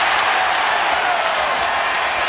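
A college basketball crowd at a Syracuse game roars after a fast-break score, a loud continuous wash of cheering and clapping that fills the arena without a break.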